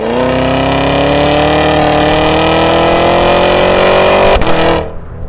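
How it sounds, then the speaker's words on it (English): A supercharged 6.2-liter V8 in a 2023 Cadillac Escalade V with AWD roars loudly and steadily while its pitch climbs, with a brief crackle near the end before the engine cuts off abruptly. "a supercharged V8 it's just back there making popcorn all the time"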